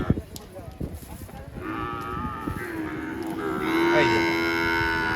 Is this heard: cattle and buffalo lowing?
yes